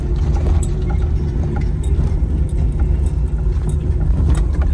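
A vehicle engine drones steadily from inside while driving a hill road near Munnar, a constant low rumble with faint light rattles and clinks over it and no talking.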